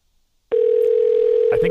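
A steady phone ringback tone starts abruptly and holds as one continuous, loud, near electronic hum after a brief silence while an outgoing call is placed.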